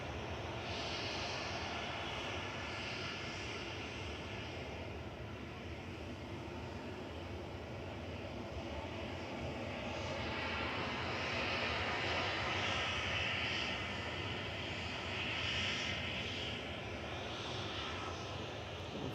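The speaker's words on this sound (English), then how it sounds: "This is Ryanair from Paris adjacent. 9H VVC 737 MAX 8200 flight 3723." A Ryanair Boeing 737 MAX 8200 at Manchester Airport gives off a steady, fairly loud jet engine roar that swells slightly mid-way and holds broad and continuous throughout, with no talk.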